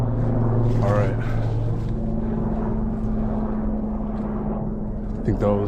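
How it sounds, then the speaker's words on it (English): A low, steady engine drone hangs overhead throughout, like a distant aircraft, with faint rustling and movement nearby. "I think that was helicopter or a plane or something up there."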